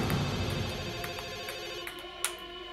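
A telephone rings with a steady electronic ringtone tone that continues throughout, moderately loud indoors, with a few faint clicks and knocks in the background and no talking.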